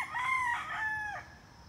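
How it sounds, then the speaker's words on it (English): A wild rooster in Hawaii crows once, a clear drawn-out call of two rising and falling segments heard from moderate distance over a quiet outdoor background. "Wild chickens of Hawaii."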